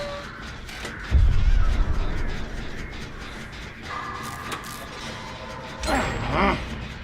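Crows caw in the horror game Dead by Daylight, harsh calls scattered over a dark ambient bed, with a heavy thud early on and louder squawks near the end.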